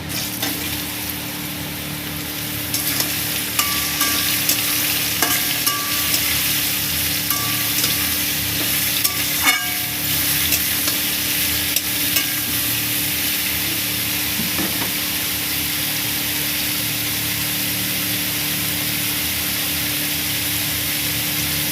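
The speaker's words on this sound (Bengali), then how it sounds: "দেখুন আমার রসুনটা লাল লাল করে ভাজা হয়ে গেছে। এবার আমি দিয়ে দেবো মাশরুমটা" Sliced mushrooms sizzle steadily in hot oil with garlic fried red, a loud, even crackle broken by occasional scrapes and clinks of a stirring spoon.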